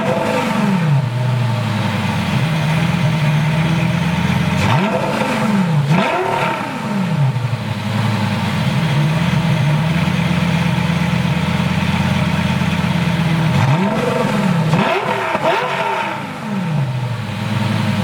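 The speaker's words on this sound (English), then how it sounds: "Let's give it a few revs and see how she sounds." A Lamborghini with a 2B exhaust, warmed up, idles steadily then gets several sharp revs, each rising and falling back to a deep rumble, loud and close with no talking.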